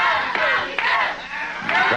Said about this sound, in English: Crowd picking up a chant, go Tommy, go.